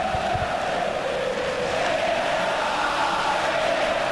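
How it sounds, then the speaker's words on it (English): A dense, steady roar of a large crowd fills the grandstands at the Australian Grand Prix in the F1 2017 racing game, a constant wash of excited cheering with no break, loud and distant in the mix. "as you can hear, the crowd absolutely excited here in Australia for Ayrton Senna's return"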